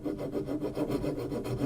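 A dull coping saw blade slides back and forth over hardened superglue without cutting, making a soft, rhythmic rubbing rasp at close range.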